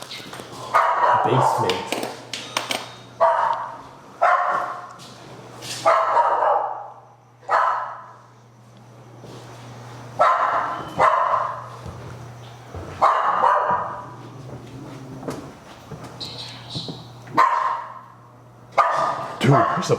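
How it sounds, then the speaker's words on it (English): A white dog barks in a hallway of the Aztec Hotel, loud repeated barks in irregular bursts close by, with a low steady hum underneath and people talking between and over the barks. "there's a fucking dog in there."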